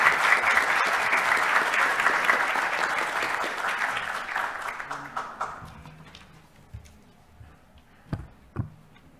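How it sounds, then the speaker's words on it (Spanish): A lecture audience gives loud, dense applause that gradually thins out and fades, ending in a few scattered, isolated claps. "volvamos a dar un fuerte aplauso"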